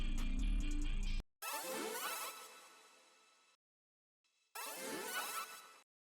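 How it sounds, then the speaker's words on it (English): Little string flicks in a modern glo-style beat play as two loud, sweeping bursts of quick swishing string notes, each fading out. A short burst of the full beat comes before them, and there is no talking. "These little string flicks sound like this."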